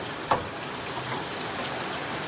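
Heavy rain pours steadily as a dense, even wash of noise, with one brief sharp knock early on and no voices.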